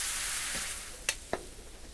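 Apple cider is poured into a hot pan of food seasoned with thyme, bringing a steady hissing sizzle with a couple of sharp clicks of a utensil near the end.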